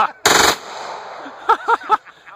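A real machine gun fires one short, loud, close burst, then the scene goes quieter and a few short voiced sounds follow.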